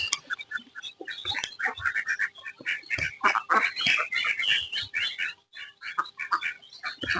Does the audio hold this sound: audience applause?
no